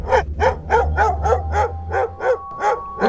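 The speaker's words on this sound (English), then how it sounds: "Ain't nothing there but the dog just barking." A dog barks in a steady series of about nine sharp barks spaced roughly a third of a second apart, fairly close and loud over a low background hum, with no talking.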